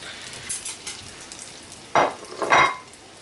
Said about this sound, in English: You just want to let it fry.